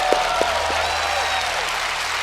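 A studio audience applauds a magic trick on a television magic show, loud, sustained clapping with a few whoops and cheers rising near the start.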